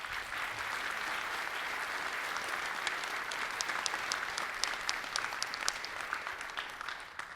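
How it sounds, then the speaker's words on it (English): Audience applause at the Microsoft Build 2019 conference, a steady, moderately distant wash of many hands clapping with a few sharper individual claps standing out, sustained throughout. "If you all want to applause as well,"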